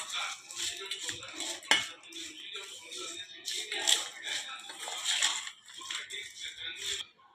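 Deep-fried curry leaves being mixed into an okra fry in a pan, giving a quiet, uneven series of metallic scrapes, clinks and rattles from stirring.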